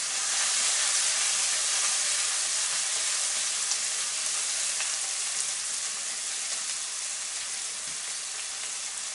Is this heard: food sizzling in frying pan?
yes